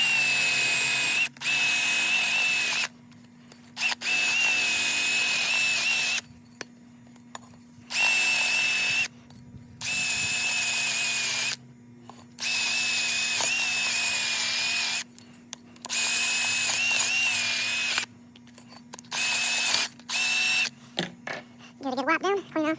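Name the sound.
wire wheel brush on a drill cleaning metal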